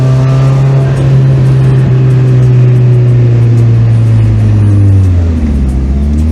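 A Mazda Miata driving with its engine droning loudly and steadily close by, pitch easing slightly then dipping near the end as the car settles into a lower note.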